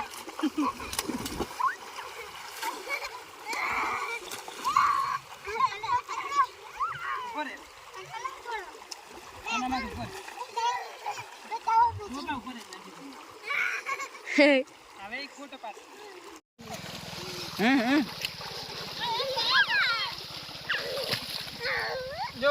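Water splashes up close as people bathe and play in the Banas river, uneven splatters coming in bursts amid excited voices and laughter, with louder, denser splashing near the end.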